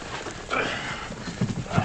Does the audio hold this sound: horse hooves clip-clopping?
yes